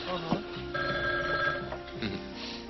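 A telephone bell rings in a hotel room, with steady repeated trilling bursts, fairly loud and close, with voices partly over it.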